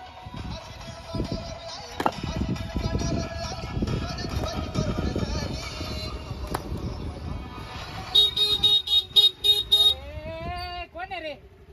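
A vehicle engine rumbles close by as it drives up, then a horn gives a rapid string of short toots followed by a longer honk, with voices heard in the background.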